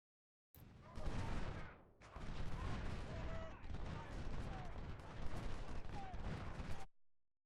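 Cannon fire from 3-inch and 24H guns shelling infantry at Antietam in the game Ultimate General: Civil War: a dense, continuous roll of overlapping booms and blasts lasting about six seconds, loud and close, with one brief dip in the middle.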